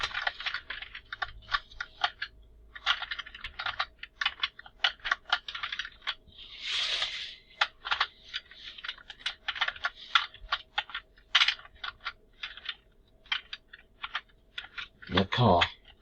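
Rapid bursts of clicky keystrokes from a nearby computer keyboard, typed in quick runs with short pauses between them.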